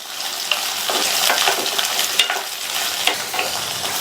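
Okra pieces sautéing in a pan over a medium flame give a steady, close sizzle of frying, broken by scraping stirs and light clicks of the spoon against the pan, with no voices.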